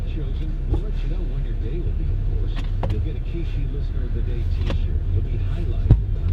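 Steady low idle of a 1996 BMW M3 E36 engine, a smooth continuous rumble heard from inside the car, with a few faint clicks over it and no talking.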